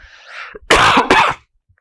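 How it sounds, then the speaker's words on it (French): Two harsh, loud coughs in quick succession, close up, following a short breathy sound. "D'ailleurs, je me mets à tousser."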